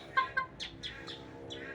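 A chicken gives a few short, soft clucks and chirps in quick succession, fairly quiet and close.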